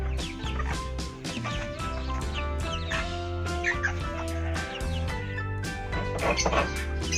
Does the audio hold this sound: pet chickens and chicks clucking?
yes